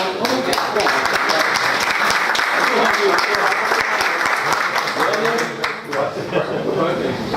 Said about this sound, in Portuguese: uma salva de palmas para todos no final